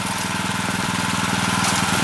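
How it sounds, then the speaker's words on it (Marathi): A Kisan Kraft power tiller engine running steadily at close range, a rhythmic mid-pitched chugging drone with a constant throb and no speech. "हा ट्रॅक्टर आहे, पॉवर टिलर आहे, किसान क्राफ्टनी काढलेला"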